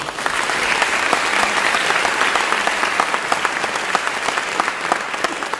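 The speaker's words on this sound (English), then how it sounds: "So another round of applause for our board members." A school district audience gives sustained applause for board members, a loud, even roar of many clapping hands with occasional sharper claps standing out.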